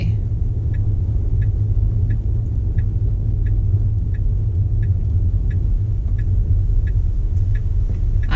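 A Tesla car drives on FSD Beta: a steady low road and cabin rumble fills the interior, with a soft, evenly spaced ticking repeating throughout and no talk.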